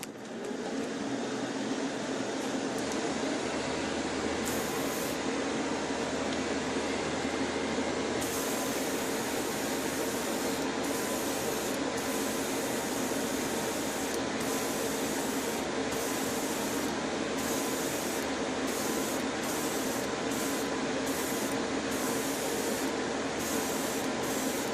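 A paint spray booth runs for airbrushing a Fujimi 1/24 scale McLaren F1 GTR Long Tail model, giving a loud, steady fan whoosh throughout, with intermittent hissing bursts of spray layered on top and no talking.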